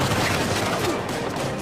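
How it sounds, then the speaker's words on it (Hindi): Dense gunfire from Uncharted 4: A Thief's End rattles on without a break, overlapping shots and bursts from several directions during a firefight in Madagascar, loud and close for the whole stretch. "चारों तरफ से गोलियां पड़ रही है।"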